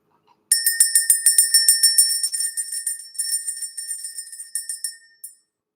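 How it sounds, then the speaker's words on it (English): A small bell is rung in rapid, repeated strikes to clear energy, its bright metallic tone ringing loud and clear before the strikes slow, thin out and fade to silence. "Let's ring the bell."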